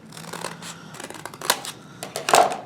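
Scissors snip through paper while shaping a Valentine basket, a string of short, crisp cuts at close range with uneven pauses between them and a couple of sharper closes near the end.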